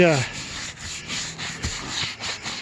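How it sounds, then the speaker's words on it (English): A small scrub brush scours dirt off an RV roof with steady, close rubbing strokes in a quick, uneven rhythm, with no talking over it. "I'm going to do just a little bit of scrubbing here"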